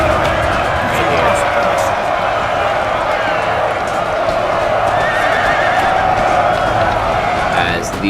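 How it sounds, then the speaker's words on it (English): Cavalry horses in a Napoleon: Total War battle whinny loudly over the steady rumble of galloping hooves and a dense battle crowd, with a sharper neigh near the end. "All these horses go up, knocking their riders off."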